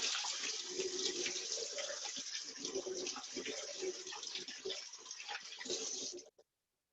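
Tap water runs into a kitchen sink while canned beans are rinsed, a steady close hiss and splash with light agitation that continues evenly before cutting off abruptly, a voice talking faintly beneath it.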